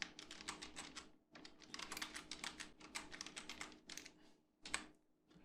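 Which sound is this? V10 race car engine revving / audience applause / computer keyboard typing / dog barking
computer keyboard typing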